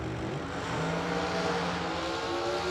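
A supercharged big-block drag race car running on alcohol at a Christmas bracket drag racing event, a loud, continuous engine roar with a brief rising rev, sustained close by.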